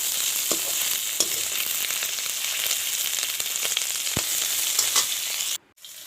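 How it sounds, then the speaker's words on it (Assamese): Pork and onions fry in a pan with no turmeric or spices, a steady close sizzle with the scrape of stirring throughout, cutting off abruptly near the end. "এয়া মই পিঁয়াজ দি দিলোঁ, লৰাই দি দিলোঁ।"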